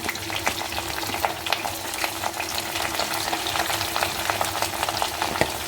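Washed, long-sliced onions spit and crackle in hot oil for a Punjabi tadka, a steady close sizzle with sharp popping spatters throughout and no talking.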